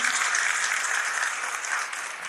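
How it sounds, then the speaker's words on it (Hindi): Applause from a seated audience at a religious discourse gathering, a dense, steady wash of many hands clapping at once, sustained and fairly loud for a couple of seconds with no voices over it. "एक बार तालियां बजाओ भाई इनके लिए।"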